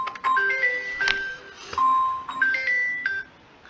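A mobile phone ringing with a melodic electronic ringtone, clear tonal notes repeating in two similar phrases, fairly close and heard alone.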